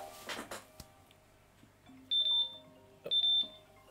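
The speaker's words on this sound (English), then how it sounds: "My phone is ringing, that's always great." A mobile phone rings indoors with two bright electronic tone bursts, each about a third of a second, separated by a short gap, loud against a quiet room with faint earlier handling noise.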